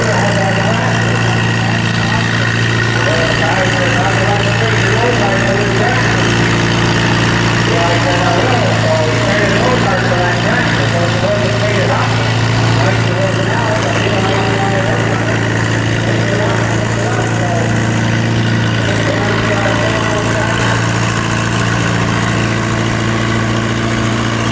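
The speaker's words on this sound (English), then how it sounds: "But he wanted this farm-all tractor." A Farmall tractor engine at a county fair tractor pull, a steady low drone with a constant hum running throughout, while someone talks over it.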